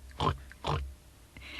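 A cartoon pig from a children's toybox show gives two short grunting oinks, fairly close and clear, followed by a fainter trailing snort.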